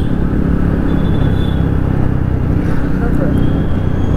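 A fully modified Bajaj Pulsar motorcycle with an Akrapovic exhaust being ridden on an evening road, its steady low engine rumble and exhaust drone running continuously and fairly loud, with road and wind noise mixed in.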